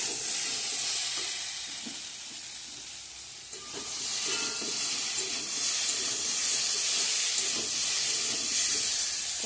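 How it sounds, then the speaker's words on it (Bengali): Spices fry in a pan during home cooking, giving a steady, loud sizzling hiss that dips briefly partway through, then swells again with faint stirring scrapes beneath. "ভালো করে ভেজে নিই, তারপর জল দিয়ে দেবো।"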